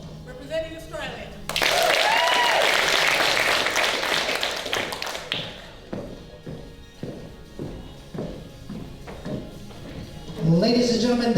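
Audience applause for finalists at a Ms Australia NZ Oceania pageant, a dense burst of clapping that swells, then thins into scattered claps, with a voice talking briefly before and after.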